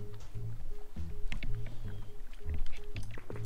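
Water flows and sloshes steadily in a Minecraft water pump build. The sound is fairly quiet and continuous, with faint repeating tones underneath.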